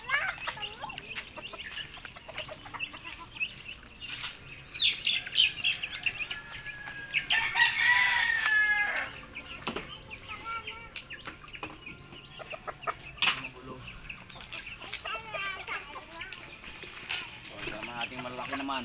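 Farmyard chickens cluck and a rooster crows, with a burst of wing flapping midway; someone talks in Filipino over the birds throughout.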